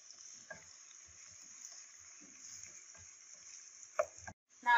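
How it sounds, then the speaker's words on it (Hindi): Onions frying until brown over a medium flame, a faint steady sizzle with occasional stirring scrapes and clinks in a home kitchen. "मीडियम फ्लेम पे हम प्याज ब्राउन करेंगे"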